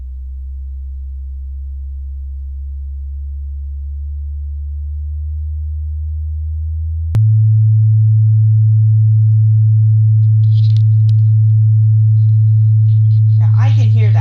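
A low steady sine test tone near 109 hertz hums alone and continuously after a sudden step up from a lower tone, with a faint laptop fan and brief soft voice sounds at the end.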